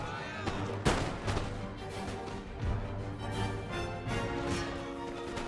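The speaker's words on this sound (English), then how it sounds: "we still got this artillery over here shooting after the artillery on the other side" Artillery guns fire repeatedly in an Austrian war video game battle, with booming blasts and crashing impacts layered over constant battlefield noise, one loud shot standing out early.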